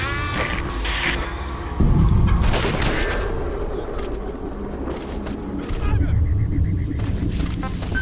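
Gunfire and heavy booms in the stealth action video game Metal Gear Solid V: The Phantom Pain, with bursts of shots and loud low impacts over a busy game soundscape, mixed with game voices and radio chatter.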